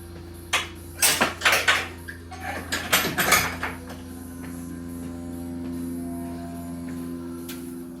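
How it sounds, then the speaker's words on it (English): Back door of a home workshop swung shut during a small engine carburetor job, a cluster of knocks and rattling clunks close by, followed by quiet hum. "Just gonna close this door."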